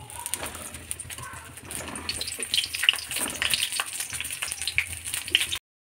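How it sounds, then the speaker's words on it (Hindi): Eggplant pieces for baingan bharta frying in hot oil in a heated kadhai, a steady crackling sizzle holding for several seconds with a few brighter pops. "इसको हल्का हल्का ऐसे भून लेना है, फ्राई कर लेंगे इसको।"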